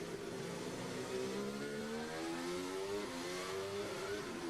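A Formula 1 car accelerates during practice at Silverstone. It gives a steady, continuous engine whine that rises in pitch across the stretch, heard at a distance with no talk over it.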